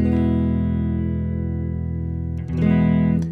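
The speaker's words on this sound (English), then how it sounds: "the neck pickup sounds like this." Electric guitar played on the neck pickup, one sustained warm chord ringing loud and close that slowly decays, followed by a quick new strum near the end, with no talking.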